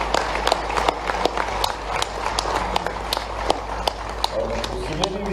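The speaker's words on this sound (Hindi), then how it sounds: "एक बार ताली बजे तो ऐसी लगना चाहिए" An audience at a Bhopal government event claps in a steady burst, sharp individual claps standing out over a constant low hum, with someone speaking over the applause.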